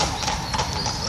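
Horses of the Chantilly mounted post walk along with steady, overlapping clip-clopping hooves, heard close, over a busy outdoor background.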